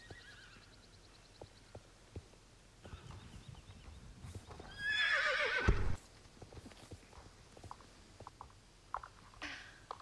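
A paddock horse gives one loud, close whinny in the middle, while scattered hoof clip-clops and light patter are heard before and after it, with no voices.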